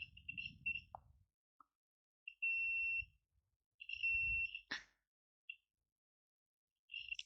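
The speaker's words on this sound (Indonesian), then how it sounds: "Jadi ketika kabel dihubungkan seperti ini, buzzer berbunyi dan juga LED indikator ini menyala." Several high-pitched electronic beeps from the continuity buzzer of a Sunshine DT-9205E digital multimeter as its leads are connected, some short and some held for about a second, with quiet handling clicks and low rumbles in between.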